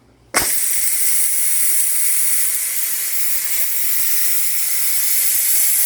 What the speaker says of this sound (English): now we are going to release the pressure